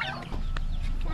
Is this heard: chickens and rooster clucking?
yes